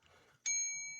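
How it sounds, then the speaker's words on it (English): A bell ding sound effect strikes once, loud and clear, after a short quiet stretch, then rings on with a bright, sustained tone that slowly fades. "Where the fuck is my bell?"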